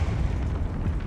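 Confringo blasting spell going off in Hogwarts Legacy, a brief low rumbling explosion with a dense bassy boom and no voices.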